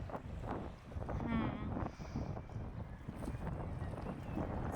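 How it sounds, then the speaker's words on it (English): Gusty wind buffets the microphone beside a seawall on the Norwegian coast, a low rumbling roar that rises and falls across the few seconds. "It's a bit windy."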